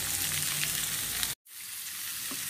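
Salt, red chillies and coriander roast in a pan with a soft, continuous dry sizzle at close range, broken by a brief silent gap before the crackle resumes.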